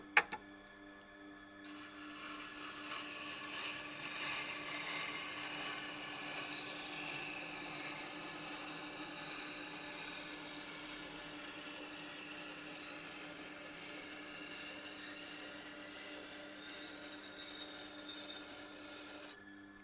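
A thin knife blade is ground on a sharpener in a steady, continuous scraping rub that lasts nearly twenty seconds after a brief quiet start. The sound stays soft and close, and no one speaks.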